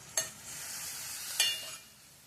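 Tomato pieces sizzle faintly in a pan with green chillies, with two brief scraping stirs of a spoon standing out over the soft, steady frying.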